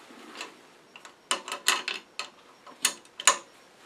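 Close, irregular ratcheting clicks and metallic ticks come from lathe chuck jaws being cranked tight around a wooden workpiece, in short uneven bursts with quiet gaps between.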